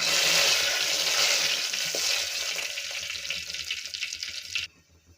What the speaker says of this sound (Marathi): आता ह्यामध्ये मी घालणार आहे कढीपत्त्याची पानं